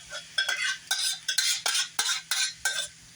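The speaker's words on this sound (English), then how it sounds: "I'm going to take the leftover sauce from the kids' spaghetti and meatball night, and I'm going to put it right there in the meat." Leftover spaghetti sauce stirred into chopped NY strip steak in a pan: about ten quick scraping strokes of a utensil against cookware in a steady rhythm, with a light sizzle underneath.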